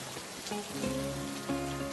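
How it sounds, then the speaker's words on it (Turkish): Rain falls on cobblestones as a steady, soft patter of drops, fairly quiet, with some tonal background sound running underneath. "yanından geçen Arnavut kaldırımı taşların üzerine düşen yağmur damlalarının sesini dinledi"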